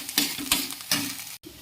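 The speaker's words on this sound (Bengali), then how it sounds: "লাউটা একটু নেড়ে চেড়ে নেব। এবার ঘিয়ে একটু ভেজে নেব।" Bottle gourd being fried in ghee in a kadai over a gas flame, with a soft sizzle and a few rhythmic stirring scrapes of a spoon against the pan.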